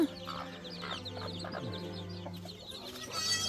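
Chickens cluck softly and repeatedly nearby with a rooster among them, scattered bird calls and a brief louder squawk near the end, no talking.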